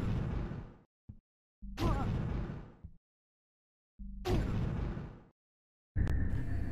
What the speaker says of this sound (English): New Explosion Particles